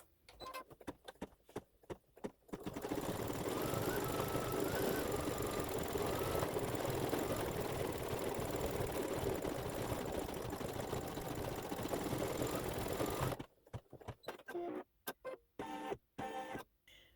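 An embroidery sewing machine stitching a quilt block runs steadily for about ten seconds, a dense fast rattling hum, bracketed by sparse clicks and ticks before and after the run.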